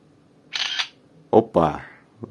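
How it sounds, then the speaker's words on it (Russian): A loud electronic shutter click from a Nokia 2760 phone camera, one short bright burst, followed by someone talking close by. "Звук затвора какой-то очень громкий, конечно."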